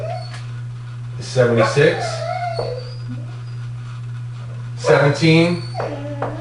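A dog whimpers and lets out thin howling whines near the microphone, rising and falling between stretches of someone speaking, over a steady low hum.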